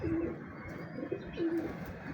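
A Lal Pari pigeon coos nearby in two or three short, low, burbling phrases against quiet background noise.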